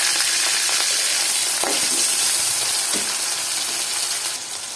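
Onions frying in hot oil in a wok give a loud, steady sizzle that fills the whole clip, with a few short stirring scrapes and clicks and no voices.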